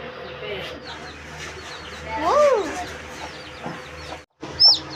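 A newly hatched chick peeps a few times, thin rising chirps against low background noise, with a voice speaking nearby.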